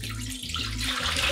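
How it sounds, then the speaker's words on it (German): 500 ml of water pours into the mixing bowl of a Thermomix TM6, a steady close splashing stream that fills the bowl, heard alone without speech. "Als nächstes gebe ich jetzt 500 ml Wasser in den Mixtopf"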